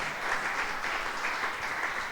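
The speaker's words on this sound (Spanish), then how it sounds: "Démosle un fuerte aplauso a nuestra hermana Alicia." A church congregation applauds steadily throughout a Sunday service, a dense, even patter of many hands clapping with no voices standing out.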